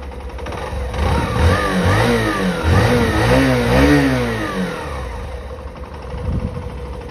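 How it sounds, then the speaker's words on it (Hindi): A Hero Passion Pro Xtec 110cc motorcycle's exhaust note, revving up and settling back in rising and falling sweeps, close and loud throughout with no talk. "तो एग्जॉस्ट नोट आपको एक बार सुना देते हैं हम"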